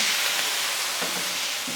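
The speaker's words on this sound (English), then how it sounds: "And just give it a good stir fry." Vegetables stir-fried in a pan with a splash of water added, giving a steady, close sizzle and hiss with a few soft scraping stirs toward the end, no voices.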